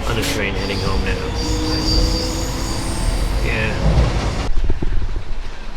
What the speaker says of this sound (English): On the train heading home now.